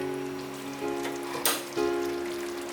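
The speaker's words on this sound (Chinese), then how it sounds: "起锅前来滴上几滴的香油，大略炒一下" Tomato, enoki mushrooms and tofu skin stir-fried in a pan with a few drops of sesame oil, a steady close sizzle with a broad crackling burst midway and scraping stirs.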